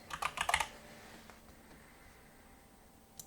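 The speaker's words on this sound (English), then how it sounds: "I'm just going to type Ionis website." Quick burst of computer keyboard typing, several close, crisp keystrokes in under a second, followed by near silence.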